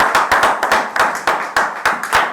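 A church congregation applauding in rhythm, hands clapping in a steady, slightly uneven beat of sharp repeated claps, fairly close and loud with no talk over it.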